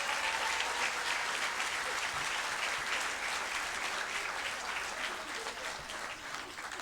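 A gala audience gives sustained applause to teacher of the year finalists at an education excellence event, a thick continuous roar of many hands clapping that stays loud and even, tapering only slightly toward the end.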